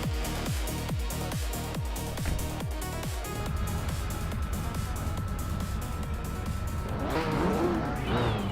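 Vintage race cars launch at the start of a race on the Österreichring Vintage no-chicane track, engines revving hard through repeated rising gear pulls, then merging into a loud, sustained roar with tire squeal near the end.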